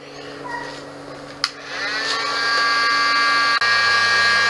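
A heat gun blows steadily while warming a plastic sun visor clip during a Nissan S14 240SX interior install, a close continuous whirring hiss that holds throughout, with a brief click partway through and a slight shift in pitch near the end.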